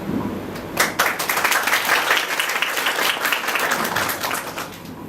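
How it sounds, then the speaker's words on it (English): Sustained audience applause at a graduation ceremony for a college class of 2013 in Thailand, a dense crowd of many hands clapping steadily for about five seconds with no talk over it. "Please join me in saluting Ajahn Chuvit Buttikan with a round of applause"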